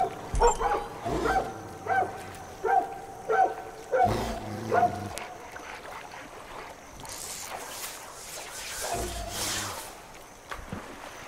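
A dog in the video game Far Cry 5 barks about six times in a steady rhythm, fairly close and loud, followed by whimpers and quieter game sounds during a fishing scene.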